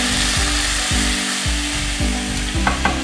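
Garlic and oyster mushrooms frying in a pan, a steady loud sizzle with a rhythmic pulsing scrape or stir roughly every half second throughout, no voices.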